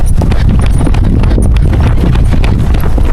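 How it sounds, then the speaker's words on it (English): A standardbred horse trotting with the pacey gait typical of the breed, its hoof clip-clops coming close and steady in a quick rhythm over continuous loud, rumbling background noise. "he's a standard bred, so he does do the pacey trot"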